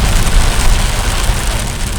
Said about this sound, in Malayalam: ഓരിച്ചെരിയുന്ന മഴ.